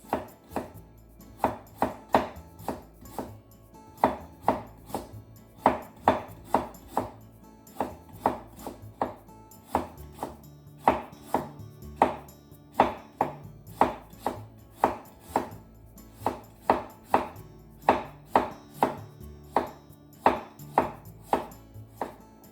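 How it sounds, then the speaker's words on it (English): A knife cuts ginger into thin slices on a board while braised pork belly is being prepared: a long series of crisp, rhythmic chops that come in quick bursts with brief pauses, close and clear, with no speech. "Ginger. Let's make some thin slices."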